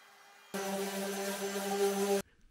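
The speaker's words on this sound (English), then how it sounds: "I'm using a 3/8 round over bit with a bushing in my router." A router fitted with a 3/8 round-over bit and a bushing whines at a steady high pitch for under two seconds as it cuts a rounded edge on wood, close and loud, with no talk.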